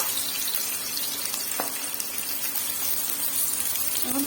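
Onions frying in a pan for vegetable chow mein, a steady broadband hiss of sizzling oil running evenly throughout, close and moderately loud with no talk.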